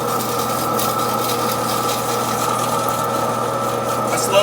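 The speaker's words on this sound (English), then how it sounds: "I slowed the lathe down." Wood lathe spinning a label cast pen blank at slowed speed, a steady loud motor hum with a constant whir and no break over several seconds.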